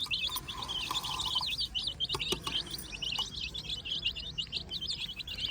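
Many young chicks chirp continuously in a village field while eating feed scattered on the ground, a dense, overlapping chorus of high peeps, close and steady, no speech.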